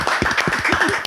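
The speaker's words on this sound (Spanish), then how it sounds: "Y un aplauso para la doctora que está aquí en nuestro podcast." Brisk clapping from a small group in a podcast studio greets a guest doctor, a quick run of close, sharp claps lasting about a second with no talk over it.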